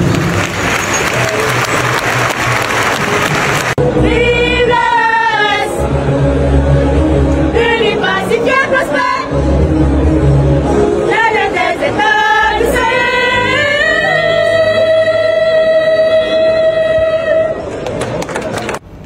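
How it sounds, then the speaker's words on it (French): A standing audience at the 29th FESPACO film festival ceremony gives loud, sustained applause that fills the hall, then voices and tonal cries or music rise over the continuing clapping. "Je vous invite donc à vous tenir debout pour les magnifier par des applaudissements nourris"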